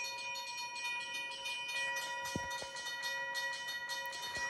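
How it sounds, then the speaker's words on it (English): A BNSF freight train hauling Union Pacific coal cars rolls past with steady wheel and rail noise, a sustained metallic ringing tone and a few sharp clanks, at moderate distance with no voices. "There's the end of that BNSF train. But it's got lots of Union Pacific coal cars."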